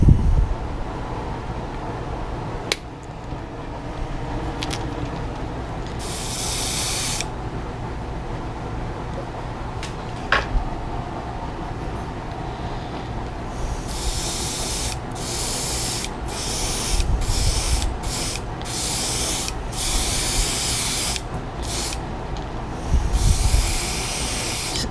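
Paint spray gun spraying colour-matched paint at low pressure, heard as steady hissing bursts that start and stop in a rhythm of short passes, loud and close, with a background hum throughout and no talking.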